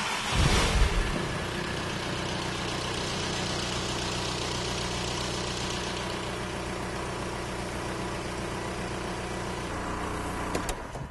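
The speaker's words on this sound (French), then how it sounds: "Le moteur tourne parfaitement bien." A Volkswagen Golf IV TDI diesel engine turns over with a brief burst, then settles into a steady, close idle that runs on evenly for several seconds.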